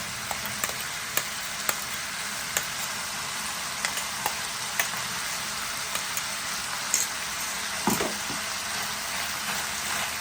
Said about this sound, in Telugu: ఇప్పుడు ఇందులోనే మనం మిక్సీ పట్టుకున్న పచ్చిమిర్చి పేస్ట్ని వేసుకొని వేగనివ్వాలి